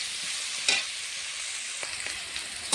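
Potato pieces seasoned with turmeric and salt fry in a pan, giving a continuous bright sizzle broken by a few sharp scrapes and knocks as they are stirred.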